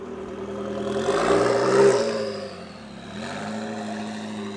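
A Ford GT supercar engine revs up loudly to a roaring peak during a supercar road rally, then eases off and settles into a steady hum, passing fairly close.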